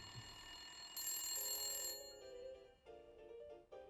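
An old telephone rings faintly in the horror video game Death Come True, a short electronic ring followed by a few repeated tonal bursts, with no talking.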